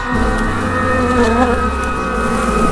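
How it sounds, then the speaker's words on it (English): A dense, continuous buzz of bee wings holds steady and loud throughout, like a close swarm droning without pause. "I can still hear the screams, mixed with the buzzing of tiny wings."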